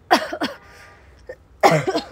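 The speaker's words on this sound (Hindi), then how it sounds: "मुझे पहले से ही खांसी है" Several harsh coughs in quick bursts, a pair close together, a brief pause, then another coughing fit, close and fairly loud.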